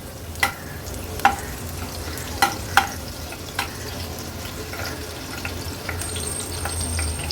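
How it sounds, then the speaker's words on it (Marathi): Crushed garlic cloves saute in hot oil in a pan, giving a steady low sizzle broken by several sharp stirring clicks and scrapes in the first few seconds, with no voices. "लसूण आहे ना, तेलावर थोडासा असा परतून घ्यायचा आहे।"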